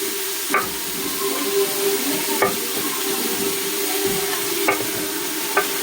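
Pounded, cut-up sirloin beef pieces fry in a pan with a steady, close sizzle, broken by a few sharp clanks of stirring spoon against the pan.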